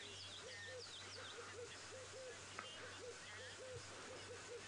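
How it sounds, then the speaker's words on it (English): A white-browed robin-chat calls in the African bush at sunset, repeating a rhythmic series of short whistled phrases at moderate distance, with fainter higher birdsong behind and a sharp knock at the very end. "Now I can hear a white-browed robin chat calling"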